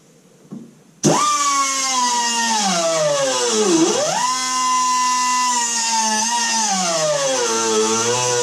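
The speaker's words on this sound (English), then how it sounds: "we're going to get out the die grinder, give that a little cut" Die grinder cutting metal on a C3 Corvette headlight door conversion, starting abruptly and then running as a loud, close high-pitched whine whose pitch dips sharply under load and recovers, continuous with no talk.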